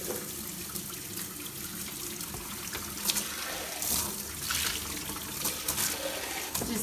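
Water runs steadily from a tap into a jetted bathtub during rinsing, a close, continuous splashing rush that swells slightly now and then.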